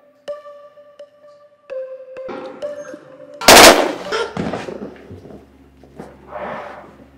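Gunfire in a dramatic film scene: one sudden loud bang cracks out mid-clip after some thin tonal sounds, followed by rumbling movement and scattered noises.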